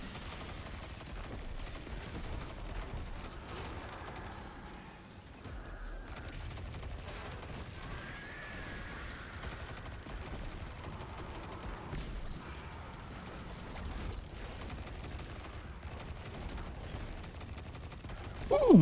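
Weapon fire in Destiny 2, a steady low rumbling barrage of shots running continuously at moderate loudness, with a sharper burst at the very end.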